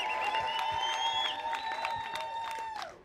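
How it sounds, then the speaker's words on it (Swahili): An audience claps at an open-air gospel crusade at Keumbu market, a light, even wash of applause heard somewhat distant, with sustained keyboard tones ringing beneath it. "Pigia Yesu makofi mazuri."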